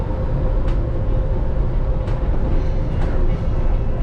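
Las Vegas monorail train pulling out of the MGM Grand station, a steady loud low rumble and hum of the rail car rolling throughout, with a few faint high squeaks over the continuous drone.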